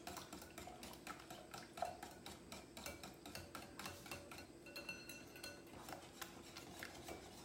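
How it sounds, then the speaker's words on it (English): Ingredients for a French toast casserole whisked in a bowl, a faint, rapid, rhythmic clinking and scraping that continues steadily throughout. "So we're going to whisk this together."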